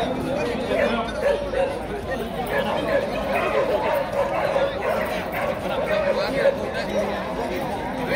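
H'Mông bobtail dogs bark and yip at a crowded breed certification contest, with steady crowd chatter and talk running throughout and the barks mixed into the din.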